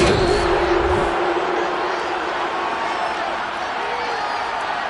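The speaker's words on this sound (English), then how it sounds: "Plenty of shouts from this crowd as they watch the replay." A football stadium crowd keeps up a dense, continuous roar of shouting and cheering, with a brief whoop near the start.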